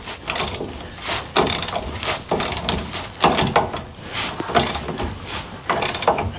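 A ratchet tightens bolts on a Jeep FSJ long-travel suspension slider, giving repeated bursts of sharp clicking strokes in an uneven rhythm, loud and close, with no talking.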